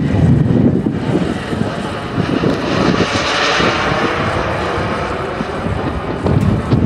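A radio-controlled BAe Hawk model jet descending to land at a Czech jet meet, its loud, steady turbine roar sweeping past close by with wind buffeting the microphone and a commentator talking underneath.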